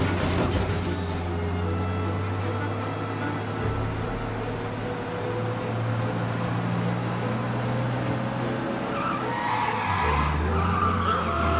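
In the video game Mafia: Definitive Edition, a car engine drones at high revs during a police chase while tires squeal and skid continuously, with a brief rumble and shifting engine note near the end.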